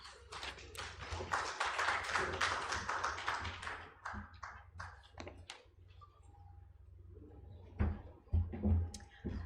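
Audience applause at a joint press conference in Uganda on management of the 2026 elections, a burst of clapping from a modest crowd that swells, thins out, then gives a few scattered claps and thuds near the end.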